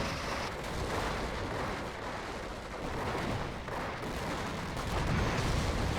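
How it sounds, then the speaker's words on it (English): Panzerwerfer rocket artillery barrage in the Company of Heroes game, a dense, continuous roar of blasts and rumbling impacts layered over each other, loud and sustained throughout. "Looks like he's using a Panzerwerfer to call in some artillery over here"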